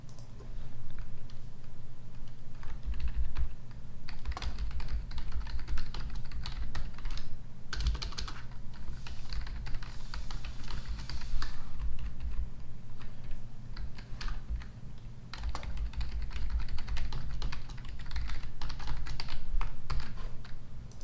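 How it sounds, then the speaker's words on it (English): Computer keyboard keys clatter continuously while a developer tests game movement, irregular bursts of close taps and clicks with brief pauses, no voices. "so now you guys can actually see me pressing the keys"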